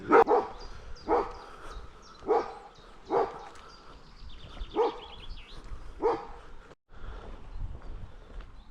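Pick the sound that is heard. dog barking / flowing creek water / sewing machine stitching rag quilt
dog barking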